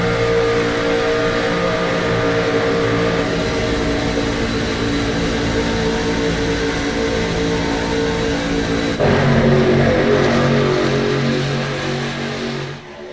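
A race truck engine drones loud and continuous from inside the cab at Talladega, holding a steady high pitch with a slight shift partway through during a superspeedway run.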